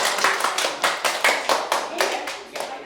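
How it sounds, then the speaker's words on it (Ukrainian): Applause in a classroom logic lesson, a group of hands clapping with a rhythmic, evenly spaced pattern of bursts, fairly close and continuous throughout. "Аплодисменти."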